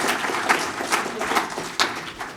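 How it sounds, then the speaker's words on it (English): A conference audience applauds after a lightning talk on the D programming language, with moderately loud scattered clapping and a few sharper individual claps standing out briefly. "you can just applaud him, whatever you prefer. Applause!"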